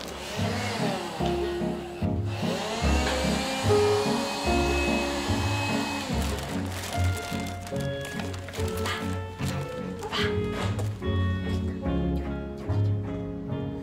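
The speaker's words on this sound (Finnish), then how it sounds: "On mulla tällainen imurin." A vacuum cleaner runs with a steady motor whine and shifting suction tones as it is moved around, close and fairly loud, with a musical score playing alongside.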